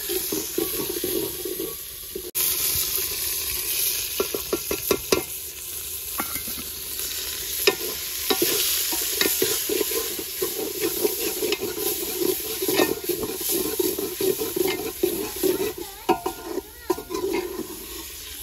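Saag tempering (tadka) sizzling and frying in a pan while being stirred, a steady crackling hiss with repeated scraping strokes throughout, close and alone with no talking.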